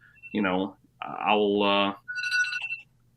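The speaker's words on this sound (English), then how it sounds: "I have that ring because that's the loudest, most annoying ring that there is." A loud electronic phone ringtone plays close up, a few bright warbling tones in quick succession.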